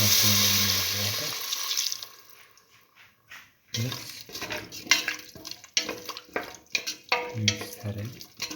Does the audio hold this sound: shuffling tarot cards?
no